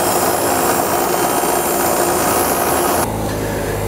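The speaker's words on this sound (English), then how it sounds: "I'm actually gonna take this over to the wire wheel and get that marker off" A bench-mounted wire wheel scrubs marker ink off a piece of metal for an exhaust cutout, a loud, steady grinding whir that runs unbroken for about three seconds before dropping to a lower, quieter hum as it spins down.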